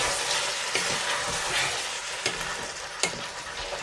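Pork and bean pepperpot with cooked green beans and canned beans being stirred in a pan over high heat: a steady close sizzle with a few sharp scrapes of the spoon against the pan.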